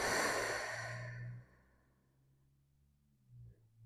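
A deep belly exhale during a stretch, close and breathy, fading out over about a second and a half, then quiet with a faint soft breath afterward.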